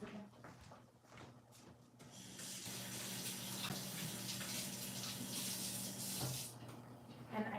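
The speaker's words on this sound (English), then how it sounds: "I'm just gonna rinse my hands again" Hands are rinsed under a running kitchen tap: a few quiet clicks and rustles, then a steady gush of water splashing into the sink for several seconds, close and moderately loud.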